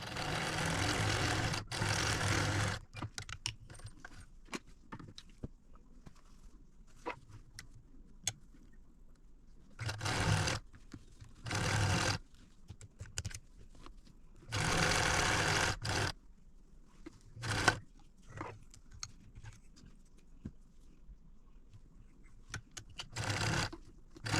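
A domestic sewing machine runs in several short bursts, stopping and starting while quilt squares are chain pieced in a row, with quiet fabric handling and clicks in the pauses between runs.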